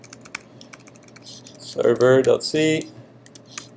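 Quick bursts of computer keyboard typing as code is entered during a lecture, light close clicks scattered through the clip, briefly interrupted by someone speaking in the middle.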